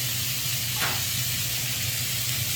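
Vegetables sizzling as they begin cooking in a hot pan, a steady even hiss of frying that holds at a moderate level without pause.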